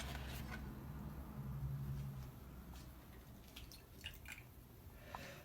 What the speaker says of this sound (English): I have some vinegar that I'm going to put with my egg white.